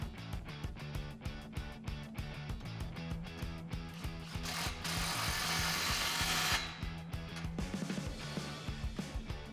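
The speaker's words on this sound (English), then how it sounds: "now we can tighten down that clamp" An exhaust clamp on a 2011-2014 Ford F150 5.0L V8 being tightened during a Rough Country dual exhaust install: a steady run of rapid mechanical clicking and knocking, swelling into a loud continuous whirring burst midway, then back to clicks.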